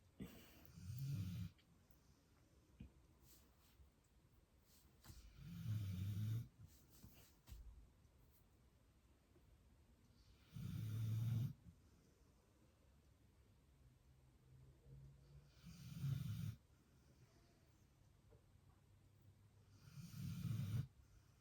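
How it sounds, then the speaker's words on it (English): A person snoring in slow, regular cycles, five faint rasping breaths spaced several seconds apart with quiet gaps between, heard alone and at a distance. "Oh, the snoring."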